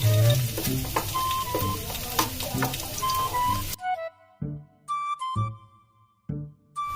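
Garlic frying in a hot pan, a loud steady sizzle with stirring scrapes that suddenly drops away, leaving only brief bursts of sizzling and clatter.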